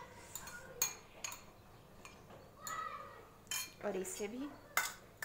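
A spoon mixes salt into sabudana papad batter, giving a run of clinking, scraping strokes against the bowl, close and fairly clear, with a few louder knocks and a brief spoken phrase.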